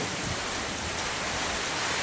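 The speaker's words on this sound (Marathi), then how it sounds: "भयान पाऊस चालू आहे" A torrential downpour hisses on without a break, a thick wash of rain noise that stays close and constant, with no other sound over it.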